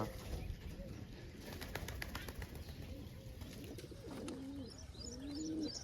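Pigeons kept for sale coo softly in a loft with a water tank, low repeated calls rising and falling over a steady background, with a few chirps and wing flutters mixed in.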